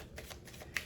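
Tarot cards being shuffled by hand, a quick run of crisp papery riffles and soft slaps repeating in short bursts, close and fairly quiet with no voices.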